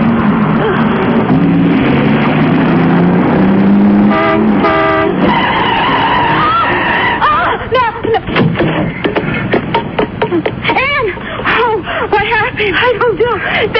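Car tyres skid and screech in a radio mystery drama as a car pulls up, rising over tense dialogue and a blaring horn before excited voices take over.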